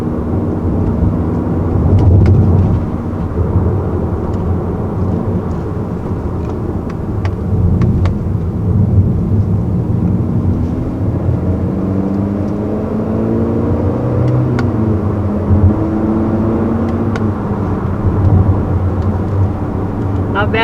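Simulated engine sound from a 2020 Honda Accord in sport mode, a steady droning hum with rising and falling tones as paddle shifts rev it, heard inside the cabin at moderate loudness under talk.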